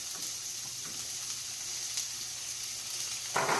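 Extra virgin olive oil heating in a pan on the stove, a steady soft sizzle and faint crackle that holds evenly, with a brief louder rustle near the end.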